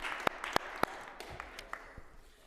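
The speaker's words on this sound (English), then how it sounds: "We'd also give a round of applause, too, more round of applause to Samara" A small round of applause rises in a New York City Council committee room at City Hall: a few sharp, distinct hand claps in an uneven rhythm, then a thinner, fading patter against quiet room noise.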